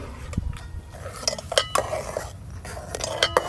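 A spoon clinks and scrapes against a pot while chhena payesh with cashews and raisins is stirred, giving a few close, irregular metallic knocks and taps over a quiet background, with no voices.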